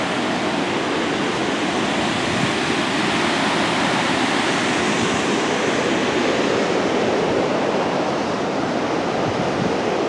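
Yellowstone River rushing far below a high overlook, a steady, dense roar of distant whitewater that holds unbroken and fairly loud throughout, with no voices.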